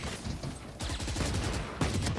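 Rapid gunfire in Valorant during a competitive match, bursts of rifle shots aimed to clear an incendiary Molly, crackling in quick clusters over a busy game mix with a fiery hiss.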